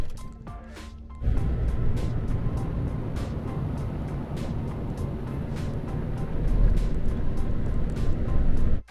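Heavy rain pours down during an intense storm outdoors around a 2013 Ford F-150 pickup. After a short quieter start, a loud steady roar of falling water continues, with occasional sharper splats and drips.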